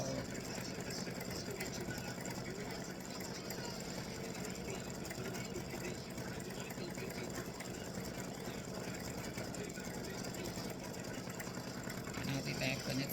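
An embroidery sewing machine stitches out a tic tac toe board, a continuous mechanical whirring hum with faint television voices in the background of a sewing room.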